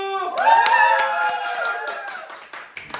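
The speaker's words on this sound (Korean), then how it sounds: "들린다면 박수" A crowd at a school anniversary gathering with a cooking contest claps together with a loud shout, the burst fading over a few seconds into scattered last claps.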